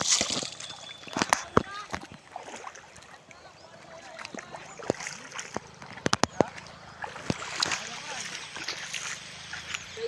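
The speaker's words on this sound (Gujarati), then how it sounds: "તો મિત્રો પાણી જઈ રહ્યું છે" River water flows and sloshes in the background while people talk, punctuated by scattered sharp knocks and clatters.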